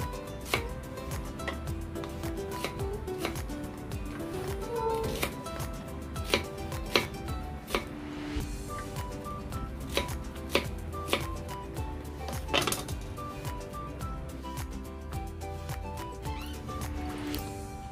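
Onion being sliced with a knife on a cutting board, a steady series of crisp, light chopping taps at an even pace, close but fairly quiet, with no talk.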